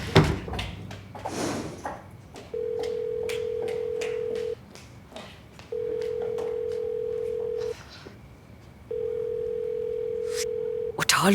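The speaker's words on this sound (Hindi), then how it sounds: "उठा लो बेटा, उठा लो फोन।" A telephone rings in three long, steady electronic tones separated by pauses, in a domestic drama scene, with brief sounds of movement between the rings.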